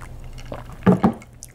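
Someone sips North Korean style cold cucumber soup, making two quick, wet slurps close by after a brief quiet pause, with light liquid sounds around them.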